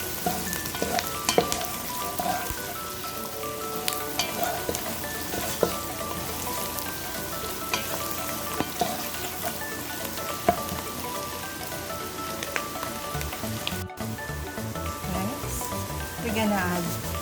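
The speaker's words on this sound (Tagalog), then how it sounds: "Pa-fried na natin to guys hanggang lumabas ang kanilang aroma o kanilang essential" Spices frying in hot oil for shish taouk chicken skewers, a continuous crackling sizzle with scattered pops and occasional stirring, close and fairly even in level throughout.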